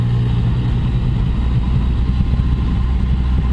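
A 2019 Yamaha MT-09 motorcycle engine runs steadily on the road, a loud, continuous low rumble with a mechanical whine, close and unbroken, no voices.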